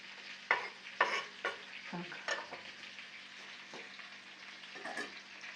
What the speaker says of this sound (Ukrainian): поки гумілки смажуються